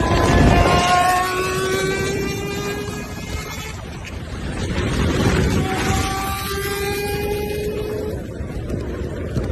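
Honda six-carburetor motorcycle engine revving high in a shrill, Formula 1-like wail, with rising and falling pitch sweeps through two main runs, loud and close against wind noise.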